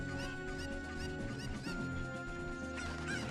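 Chickens cluck and squawk in a Zelda video game, giving several quick calls layered over steady game music and ambient tones.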